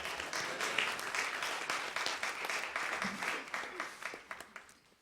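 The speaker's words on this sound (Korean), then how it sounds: "우리를 통해 큰 일을 하실 우리 하나님께 영광의 박수 올리겠습니다" A church congregation at a Sunday morning worship service claps together in praise, a fairly distant, moderate wash of applause that thins into scattered individual claps and fades out at the end.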